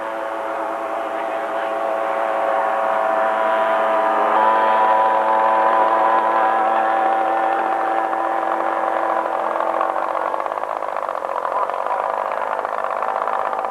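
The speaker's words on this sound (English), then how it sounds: "Nick's got a 1/3 scale Fokker D7" One-third scale Fokker D7 model airplane engine droning in flight at a scale model event, a steady tonal buzz rising and holding at moderate distance, with someone narrating over it.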